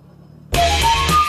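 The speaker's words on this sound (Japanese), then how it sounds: "ハンドルを切った方向に車が滑り出しております" A car drifts after a handbrake pull and steering input, with a loud broadband rush of tire and engine noise cutting in abruptly after half a second of quiet. A rising tonal whine runs through the sustained slide.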